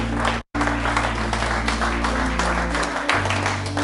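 A church congregation claps and cheers in a dense, loud, continuous wash of applause that carries on throughout with barely a break.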